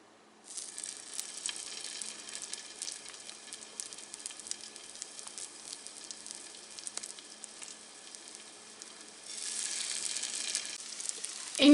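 Zucchini kebabs fry in hot oil with a steady, close hiss and crackle that swells louder near the end, with no voices.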